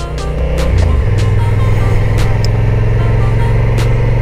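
A 2022 Honda NT1100 motorcycle engine drones loudly and steadily while being ridden, its low hum stepping up in pitch within the first second and then holding a constant cruising tone.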